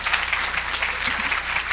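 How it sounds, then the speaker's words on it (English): Steady lecture-audience applause, a dense wash of many hands clapping throughout, fairly loud and continuous with no voices standing out. "let's give Dr. Pookrum a round of applause."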